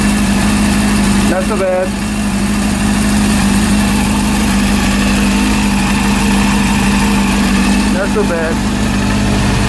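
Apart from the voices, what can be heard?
rebuilt Honda CB400 motorcycle engine idling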